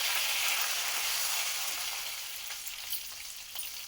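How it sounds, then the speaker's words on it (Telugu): Green chillies frying in a heavy pan, a close, steady sizzle that eases slightly in loudness midway, with faint stirring scrapes near the end. "ఇప్పుడు పచ్చిమిరపకాయలు లైట్గా వేగేదాకా తిప్పుకోవాలి"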